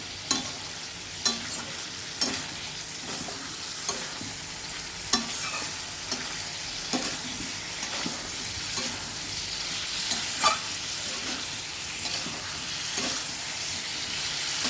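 Potatoes are stir-fried in a pan with other ingredients, giving a continuous sizzle and hiss broken by regular scraping knocks of a spatula against the pan.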